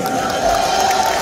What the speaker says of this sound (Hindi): जोरदार तालियां हमारे प्रकाश जी के लिए